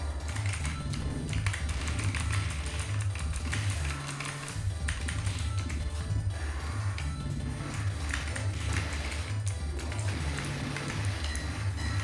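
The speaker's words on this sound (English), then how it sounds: "I'm using a mechanic keyboard, you know, that I use on my work" Keys clatter on a mechanical keyboard in fast, continuous typing, a dense stream of clicks under a steady thumping background beat, close and fairly loud throughout.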